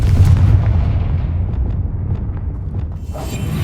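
Explosive spells cast in a Harry Potter video game, a loud, deep blast at the start that trails off into a low, rumbling decay over a few seconds.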